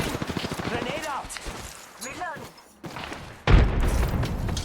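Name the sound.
grenade explosion and gunfire in Apex Legends video game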